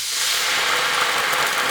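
Gochujang sauce sizzles in a hot pan with a steady, loud, hissing spray of sound, close up and without talk.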